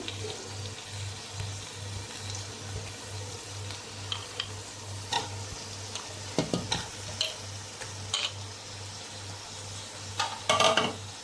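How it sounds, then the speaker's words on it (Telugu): Mutton being stirred into a frying tomato-onion mix for Kadapa chitti muthyalu biryani, a soft continuous sizzle with a low hum beneath and several louder scraping, clattering stirs toward the end, no talk. "ఇప్పుడు దీంట్లోనే మనము ఈ మటన్ని కూడా వేసేద్దాము."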